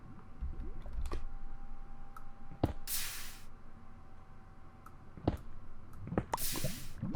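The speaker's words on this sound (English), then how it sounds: "I can see water dripping down." Water dripping in modded Minecraft, sparse sharp drips landing at irregular intervals over a soft steady background, with a couple of louder hissing bursts in between.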